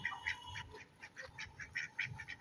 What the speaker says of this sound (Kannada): ಬಾತುಕೋಳಿ.